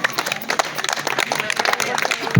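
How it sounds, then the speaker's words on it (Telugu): Audience clapping at a village Sankranti rangoli competition prize ceremony in Gangavaram, Gurazala mandal, Palnadu, with busy crackling applause throughout and a voice faintly in the mix. "అందరూ చప్పట్లు కొట్టాల్సి"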